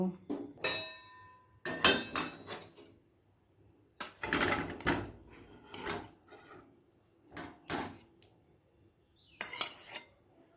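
Metal utensils clatter and scrape against pots as curry with fish roe fritters (macher dimer bora) is stirred with garam masala and transferred to another pot, in several close, irregular bursts of clinking and rubbing separated by pauses.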